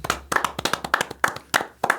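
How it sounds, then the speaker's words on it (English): Hands clapping on a podcast, a quick series of sharp, close claps, the first few in rapid bursts and the last ones spaced out, with nobody speaking. "You clapped 5 times."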